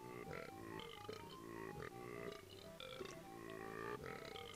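Burp-like garbled grunting gives voice to Captain Blubber, the hippo in the Banjo-Kazooie video game: choppy runs of low croaking, pitched syllables in rapid bursts with brief gaps, near and steady, with no human voice over them.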